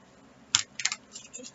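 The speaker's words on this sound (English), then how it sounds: "Scissors." Scissors snipping open a hard-to-open package: a sharp cut, then a quick pair of snips and a few softer clicks, close and fairly quiet in a still room.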